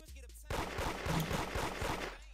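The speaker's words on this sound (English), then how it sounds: "Who the fuck is shooting an RPG? I heard that shit." Loud weapon fire in the Roblox game Da Hood, a dense burst of booming blasts over about two seconds after a brief quiet start, with no talk over it.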